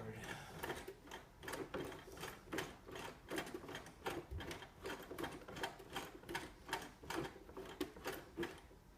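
A sewing machine runs forward stitching along a shirt collar, giving a steady fast mechanical chatter broken by short pauses, close and moderately loud, with faint talk underneath.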